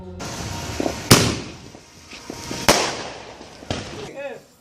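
Fourth of July fireworks burst outdoors in three sharp loud bangs spaced over several seconds, each trailing off into crackle and echo, with faint voices and background noise between them.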